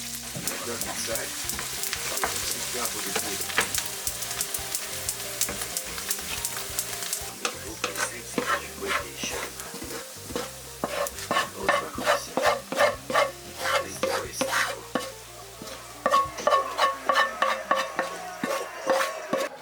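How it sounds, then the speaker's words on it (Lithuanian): Onions fry in a well-heated pan. A continuous sizzle sits under repeated scraping stirs, and the stirring grows more rhythmic and pronounced toward the end. No one speaks. "Dedam į gerai įkaitintą keptuvę, kad nesitroškintų svogūnai"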